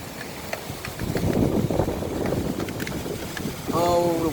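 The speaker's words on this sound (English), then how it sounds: "Oh, the wind's picking up like crazy." Strong wind gusts roar through a thunderstorm in Buffalo, NY, a broad steady rushing with buffeting on the microphone, loud and close throughout, with a brief harmonic tone near the end.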